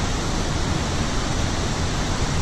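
The Garo waterfall in the Shirakami mountains, about 12 m high, gives a steady, dense roar of falling water that stays loud and constant with no pauses and no voices.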